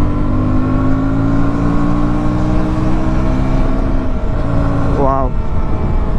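A 2025 KTM Duke 160 motorcycle engine drones steadily under rushing wind, then revs briefly and quickly climbs in pitch as it accelerates to overtake.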